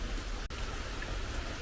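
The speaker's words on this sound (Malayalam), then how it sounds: "അതേ മഴ തുടങ്ങി" Rain falls steadily outdoors at a house, a dense even hiss of drops with no distinct voices.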